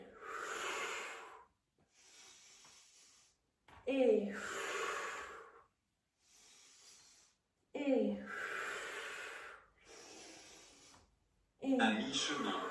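Deep breaths drawn in and pushed out during a Pilates and yoga flow abs workout, several loud, breathy pulses of a second or two each, separated by short pauses, with close, rushing air.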